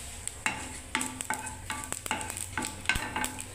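Nigella seeds dropped into hot oil in a pan with fried green chilli, crisp sizzling crackles and a few sharp spatula scrapes and taps repeating irregularly, close and fairly quiet, no talking.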